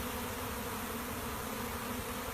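Bees hidden in a water meter box give off a steady, close, continuous buzzing drone that holds evenly throughout with no voices.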